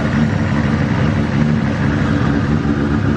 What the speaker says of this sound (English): Even the way that it idles sounds a lot smoother